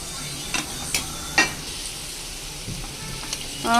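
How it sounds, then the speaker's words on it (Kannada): Chopped onion and green chilies frying in a pan for an egg stir-fry, a steady soft sizzle broken by a few sharp scrapes and clacks of a spatula against the pan. "ಫ್ರೆಂಡ್ಸ್ ಇವಾಗ ನಾನಿಲ್ಲಿ ಮೊಟ್ಟೆ ಪಲ್ಯ ಮಾಡೋದಕ್ಕೆ ಈರುಳ್ಳಿ ಹಸಿಮೆಣಸಿನ್ಕಾಯಿ ಎಲ್ಲ ಹಾಕಿ ಫ್ರೈ ಮಾಡ್ತಾ ಇದ್ದೀನಿ"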